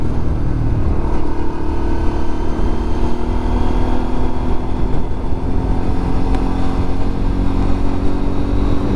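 A Lexmoto LXR 125 motorcycle with an aftermarket exhaust runs loudly and continuously with a deep, rumbling exhaust note, steady throughout with slight pitch rises.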